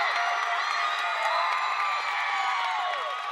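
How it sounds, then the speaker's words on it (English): A gym crowd at a girls volleyball state championship roars and cheers continuously, with shouts and whoops from the stands blending into a dense, sustained wall of noise at the match's end. "The fans stand and applaud."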